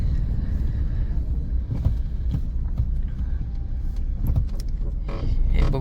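A car idles and creeps in slow traffic on the Katraj ghat road, with a low engine rumble, road noise and the occasional knock or passing vehicle close by.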